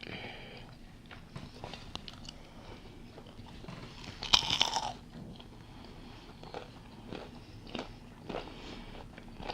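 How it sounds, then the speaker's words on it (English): Chewing and biting on chicken and waffles close to the mic, soft wet mouth sounds with one sharper crunchy bite near the middle, quiet with no talk. "we can hear all the gurgling and chewing"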